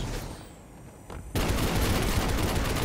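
Gunfire from hive snipers in the video game Destiny, during a dungeon run: a faint start, then a sudden loud burst of dense, sustained shooting that continues without a break.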